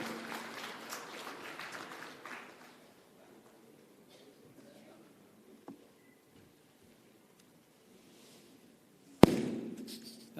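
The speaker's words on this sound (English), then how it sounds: "A big round of applause," Applause from an audience welcoming the chief guest at a manufacturing conference in Coimbatore fades out over the first few seconds into quiet, followed later by a single sharp thump.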